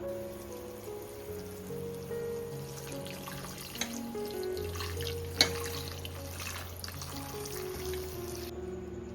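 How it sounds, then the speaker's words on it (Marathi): Kevla leaves, a monsoon wild green, are rinsed in clean water, giving a steady splashing and trickling with a few sharp clinks of a vessel. "आता केवला मस्त स्वच्छ पाण्याने धुवून घेऊ"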